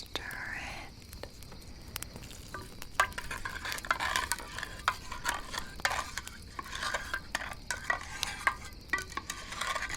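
A spoon stirs hot water in a cup beside a campfire, producing soft, repeated clinks and swishes at close range amid faint crackling and quiet whispered ambience.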